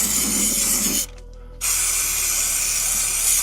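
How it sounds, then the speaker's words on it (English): Underbody protection coating of bitumen and synthetic rubber sprayed from an aerosol onto a Mini Cooper S Cabrio rear subframe area: a loud, close, continuous hiss that breaks off for half a second, then resumes steadily. "That's a gravel and underbody protection with bitumen, synthetic rubber, and that gives an extra coat."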